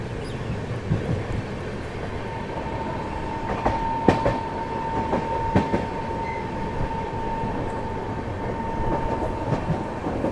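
The Jaipur–Delhi double decker express rolls into Delhi Sarai Rohilla station with a steady rumble, faint rhythmic clicks of wheels over rail joints and a thin sustained squeal, moderately close and without voices.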